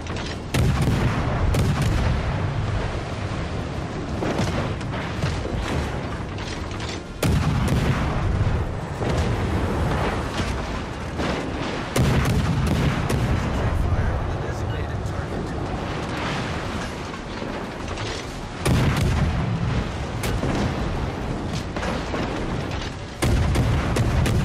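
Heavy naval gun salvos from warships in World of Warships Legends boom repeatedly at intervals over a constant dense rumble, loud and close, with voices talking among the blasts.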